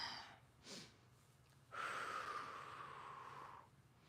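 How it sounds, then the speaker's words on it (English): Heavy exhalations during an arm-circle warm-up: a short breath near the start, then a long, steady deep exhale lasting about two seconds, close to the microphone with no talking. "Deep breaths."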